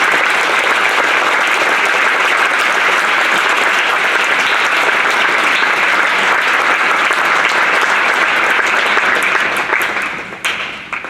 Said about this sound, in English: Please give Chad Little a round of applause.